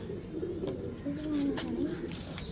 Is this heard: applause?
no